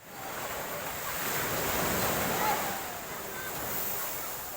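Ocean waves wash and roar steadily, swelling and easing, with wind noise buffeting the microphone.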